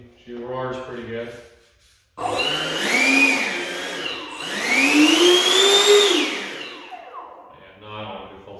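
A 90 mm electric ducted fan RC F18 jet spools up indoors in two loud surges, a rising turbine whine over a rushing roar; someone speaks briefly before and after the run.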